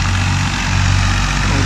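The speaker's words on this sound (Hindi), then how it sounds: "ये है गाजी ट्रैक्टर" A Ghazi tractor idles steadily at a farm during wheat threshing, a low, continuous diesel rumble with a constant throb and no talk over it.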